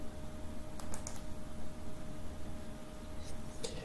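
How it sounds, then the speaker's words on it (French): Quiet keystrokes tap on a computer keyboard as a product code is typed into a website search bar, a few light clicks scattered over a steady background hiss. "Et on va taper"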